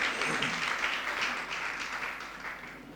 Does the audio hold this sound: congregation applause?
yes